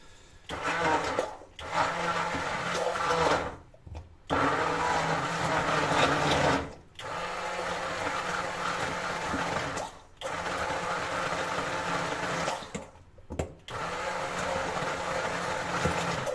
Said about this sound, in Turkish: O yüzden en son blender işleminden geçiyorum arkadaşlar.